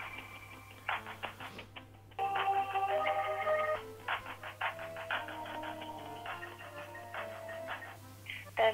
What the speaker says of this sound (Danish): Vi ringer til parfume- og rengøringsafdelingen.